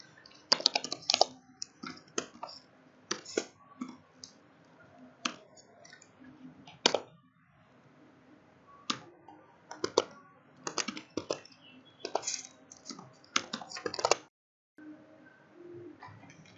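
Rapid bursts of computer-keyboard keystrokes come in irregular clusters while parent details are entered into a form, fairly close and crisp, with pigeons cooing softly in the background and no talking.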